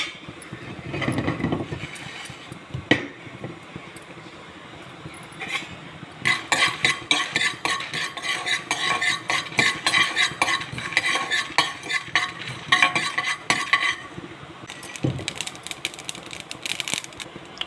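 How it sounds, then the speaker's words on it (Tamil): Mustard seeds, fenugreek and dried red chillies frying in a pan, crackling and popping with scraping stirring in irregular bursts, quieter at the start and busier in the middle, no talking. "கடுகு, வெந்தயம், காஞ்ச மிளகாய் போட்டு வறுத்துக்கோங்க"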